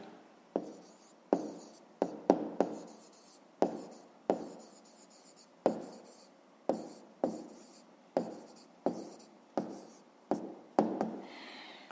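Pen strokes on paper as a fifth-grade maths exercise is written out, a steady series of sharp taps and short scratches repeating about once a second, close and clear with no voices.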